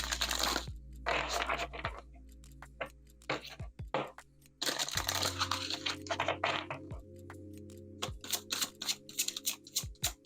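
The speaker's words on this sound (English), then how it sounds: "I will start by shuffling the first deck" A deck of cards is shuffled close up in quiet bursts of riffling and crisp flicking, with short pauses between runs and a faint low hum underneath.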